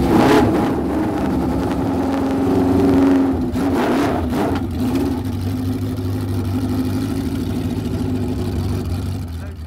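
A steady three-cylinder motorcycle engine rumble runs throughout, rising briefly as if revved, with a voice speaking over it.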